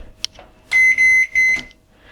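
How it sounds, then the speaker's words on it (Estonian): A microwave oven gives one short click and then three bright electronic beeps in quick succession, each clear and close against a quiet room. "Lülitame mikrolaineahju sisse."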